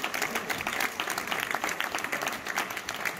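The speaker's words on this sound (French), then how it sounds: "on peut les applaudir, s'il vous plaît." An audience at a live healing service in Gap claps steadily and densely, a sustained round of applause filling the room at moderate volume with no one speaking over it.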